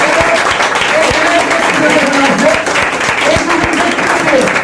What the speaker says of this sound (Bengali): তার জন্য একটা হাততালি হবে